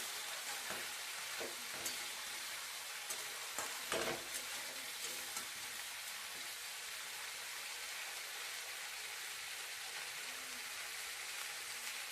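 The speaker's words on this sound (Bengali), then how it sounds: "সামান্য পরিমাণে নুন আর সামান্য পরিমাণে হলুদ দিয়ে আমি সবজিগুলোকে ভালো করে লাল লাল করে ভেজে নেবো" Mixed vegetables fry in a home kitchen wok with salt and turmeric, a steady dense sizzle and crackle running throughout with occasional stirring scrapes, close and even, no talk.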